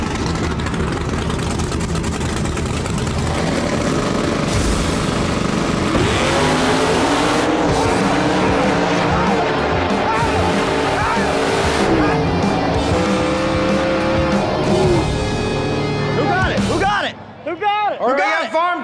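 Drag race cars Farm Truck and Old Heavy on a no-prep street outlaws track, loud roaring engines and revving with tire squeal throughout, under crowd noise and commentary talk.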